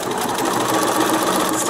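A sewing machine stitches a paper-pieced quilt seam along a printed line, its motor running as a steady, fast, close whir throughout with no talking.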